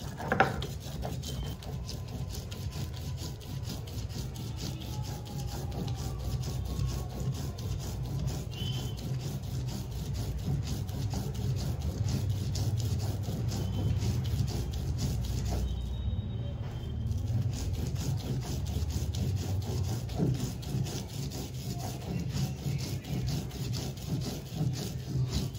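White sesame is ground on a stone slab, making a continuous, even rubbing and scraping grind close by that keeps going without pause.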